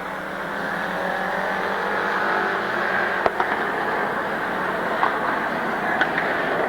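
Race cars roar around Midvale Speedway in 1992, a continuous engine drone with a few sharp knocks, heard from the stands at a steady moderate distance.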